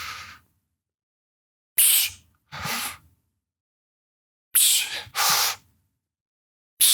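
Short, breathy bursts of air taken in and let out during a boxing pressing exercise, close to the mic, each burst separated by silence, with a quick double burst near the end.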